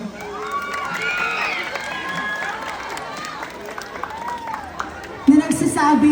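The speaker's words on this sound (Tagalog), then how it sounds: "Bakit hindi po natin sabay-sabay na palakpakan at hiyawan?" Crowd at a gay pageant, Miss Gay Bangad 2025, cheering and clapping in a sustained wash of noise, with a host's voice speaking over it and a sharper burst of sound near the end.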